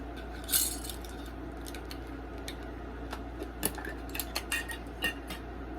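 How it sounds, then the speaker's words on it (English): Dried juniper berries drop into a mortar and pestle, making a scatter of small, sharp ticks and light clinks spread irregularly over several seconds, close and fairly quiet over a low background hum. "the first thing I am going to put in here is, in the mortar pestle, is Juniper Berries"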